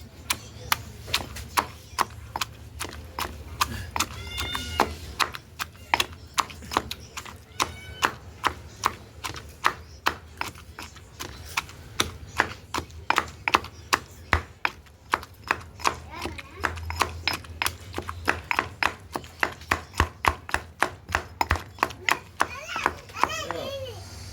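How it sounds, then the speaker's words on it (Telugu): Green chillies, garlic and tamarind are pounded in a stone mortar for a tomato chutney: a long, steady run of regular thuds with close strikes throughout, while children talk and play nearby. "పచ్చిమిరపకాయలు ఎల్లిపాయలు చింతపండు మూడు బాగా దంచుకుందాం"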